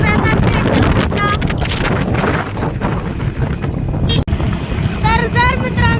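A cool wind buffets the microphone loudly and continuously at a waterfall viewpoint, with a person talking over the rushing gusts.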